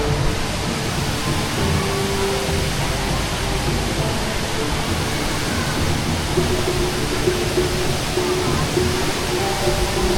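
A loud, steady roar of falling water from an indoor waterfall at Singapore Changi Airport fills the space, continuous and close, with a voice faintly under the rush.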